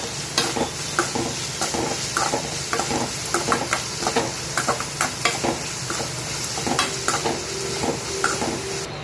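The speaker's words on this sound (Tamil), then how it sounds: "வெங்காயம் நல்லா வதங்கட்டும்." Onions with a little salt sautéing in a pan for ragi semiya upma, a continuous close sizzle punctuated by regular, rhythmic spatula knocks and scrapes against the pan, with no talking.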